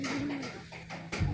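Young racing pigeons, about two months old, are heard cooing softly outdoors in a low, rolling call, with faint wing flutter and background noise.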